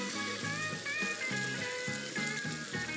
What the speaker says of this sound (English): we're frying this bacon first for a couple reasons